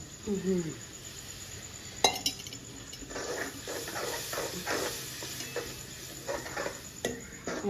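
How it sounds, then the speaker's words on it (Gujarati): Dal simmers in a pot on a clay village stove after tempering, with a soft bubbling hiss and sharp metal spoon clinks and stirring scrapes now and then. Faint voices are heard in the background. "થોડું સીજવા દેવાનું ને થોડુંક સીજવા દેવાનું દાળને આપણે"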